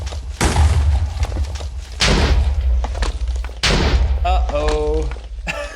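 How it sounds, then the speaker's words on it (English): Several loud, booming TNT blasts from Minecraft go off in sequence, each a heavy thud with a rumbling tail, with a softer rattle of debris near the end and no talk over them. "hit the lever, make our way out of there, and we should see some explosions"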